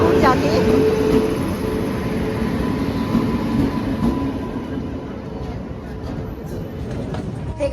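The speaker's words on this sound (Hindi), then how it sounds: "जैसे ही हम स्टेशन पे आए, ट्रेन आ गई विदिन 5 मिनट" A train pulling into a railway station, loud rumbling wheels and carriage clatter close by that gradually eases, with station noise around.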